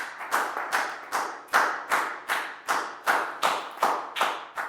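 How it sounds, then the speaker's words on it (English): A Year 4 maths class claps in unison for a student named Dan, a regular beat of roughly thirteen sharp, close claps with no voices over them. "a big round of applause for Dan"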